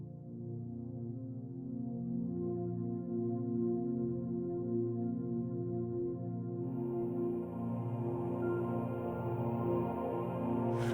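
A sustained worship-band transition pad, Call to Worship, played through Prime: a steady, layered drone with a throbbing pulse, growing brighter with a wash of high shimmer near the end, no voices.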